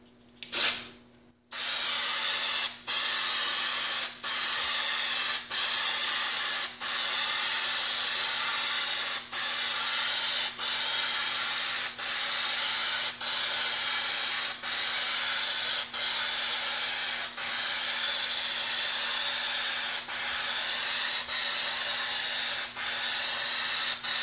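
Aerosol gesso sprayed onto a canvas in a long run of short bursts after an initial loud hiss, each spray a steady broadband hiss separated by brief gaps, close and alone.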